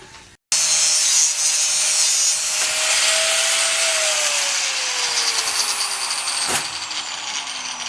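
Cutoff wheel grinding through metal on a Chevy truck during transmission work, a loud, sustained, harsh high-pitched screech close by whose pitch slowly drops as the wheel bogs down, with no talking.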